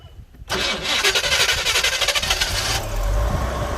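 A 1978 Jaguar XJ-S fitted with a Chevy-type engine and a 4-barrel carburetor cranks briefly and fires up, settling into a loud, close, steady rumbling run with no talking.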